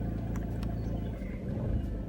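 An Audi A4 B7 with a 2.0 engine idling after a coolant temperature sensor replacement, a steady low rumble that holds evenly throughout with slight swells.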